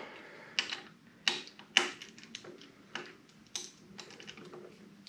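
Torx bolts being unscrewed from a motorcycle brake or clutch lever during a Kuryakyn Trigger lever install, a series of sharp irregular ticks and clicks from a tool at close range, separated by quiet pauses.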